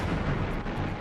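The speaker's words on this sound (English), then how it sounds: "The pulsing series of explosions gave the V-1 rocket several nicknames" A World War II V-1 flying bomb's pulsejet engine gives a loud, continuous throbbing roar of rapid explosive bursts, dense and unbroken throughout with no voices.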